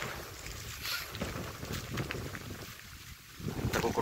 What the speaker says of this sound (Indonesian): anginnya sangat menggemparkan ya anginnya